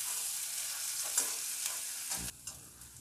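Chopped green chilli and grated ginger fry with spices in a pan, giving a soft, close sizzle broken by a few scraping stirs of a spoon.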